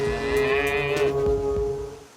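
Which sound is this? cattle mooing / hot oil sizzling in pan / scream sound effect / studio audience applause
cattle mooing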